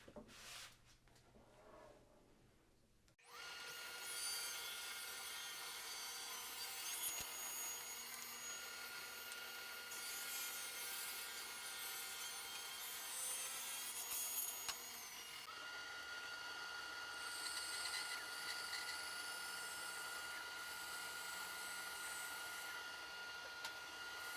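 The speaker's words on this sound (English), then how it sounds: "now I need to plane it to thickness. And again, this is going to take a few passes." Wooden boards are fed through a thickness planer, several passes in a row: a steady, loud whirring drone with a rougher cutting texture, which starts abruptly after a few seconds of quieter shop noise and continues to the end.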